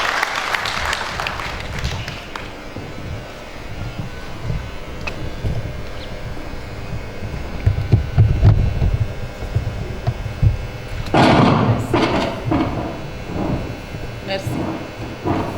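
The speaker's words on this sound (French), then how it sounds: "nous allons tous ensemble, avec un tonnerre d'applaudissements, accueillir Madame la Présidente" Steady applause from a crowd fills the room at a forum's opening ceremony, with low rumbling underneath and a brief swell of louder clapping near the end.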